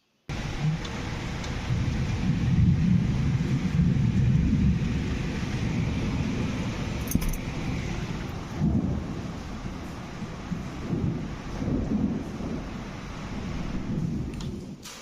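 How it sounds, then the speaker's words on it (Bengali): Thunderstorm with heavy rain pouring outside a house, a steady loud wash of rain with low rumbling thunder rolling through, no voices. "বাইরে ঝড় বৃষ্টি"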